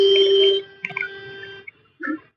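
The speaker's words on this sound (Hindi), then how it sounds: "बहुत हॉर्न की आवाज़ है" Vehicle horns honk outside a home, starting with one long steady blare and followed by a few shorter toots, each fairly loud and separated by quiet gaps.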